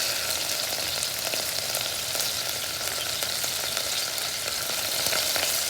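Garlic frying in hot oil in a pan, a dense, steady crackling sizzle filling the whole span, close and even, with no one speaking.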